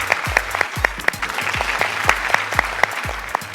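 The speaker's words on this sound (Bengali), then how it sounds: "জোরে করো তালি" A studio audience at a game show claps together in a steady, rhythmic beat, loud and close, with a low thump under each clap and a faint crowd murmur.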